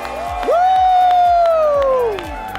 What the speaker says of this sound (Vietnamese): Xin một tràng vỗ tay lớn cho Mai Tinh Vi from Big Toe